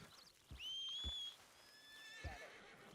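A horse in a video game neighs, with a long, high whinny followed by a second shorter one and a couple of hoof thuds, heard clearly at moderate volume without speech.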